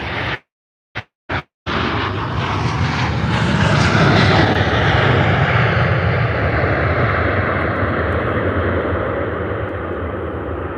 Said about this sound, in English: So now we have the Ryanair. Oh wow, that was a better landing.